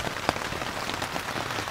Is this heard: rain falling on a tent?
yes